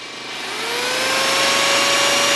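A power drill running off a portable battery power station whirs up to speed, its motor whine rising in pitch and then holding steady, loud and close.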